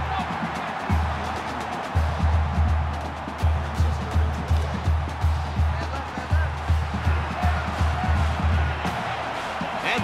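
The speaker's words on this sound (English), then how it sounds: "this crowd is going absolutely crazy" A stadium crowd in the NCAA Football 22 video game cheers loudly with repeated rhythmic surging roars over constant background noise.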